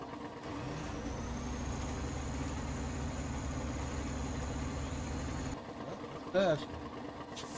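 A tractor engine idles with a steady low drone in a farming game, a faint whine above it, then it drops off and a brief mechanical chirp follows; a voice speaks briefly over it.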